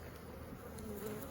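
Honey bees hum steadily around an open hive that was caught just before swarming, a soft continuous buzz with no voices over it.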